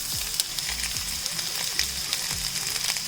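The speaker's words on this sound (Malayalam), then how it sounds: "നമുക്ക് ഉള്ളി ഇട്ട് കൊടുക്കാം." Onions are dropped into hot oil in a pan while pepper chicken is cooked at home, giving a loud, continuous sizzle with occasional light clinks of stirring and no talking.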